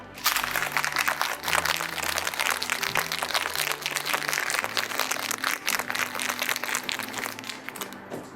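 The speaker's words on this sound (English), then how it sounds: "And give this a good shake." A cocktail shaker filled with ice, whiskey, orange juice and lemon shaken hard, a dense continuous rattle of ice against metal that lasts about eight seconds over a music bed.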